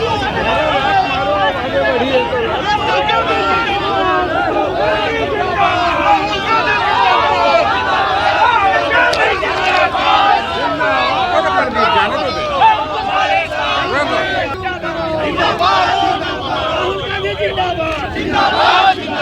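A dense crowd of Congress party workers shouts and chants continuously at an effigy burning in Jharkhand, a loud, unbroken roar of many voices at close range.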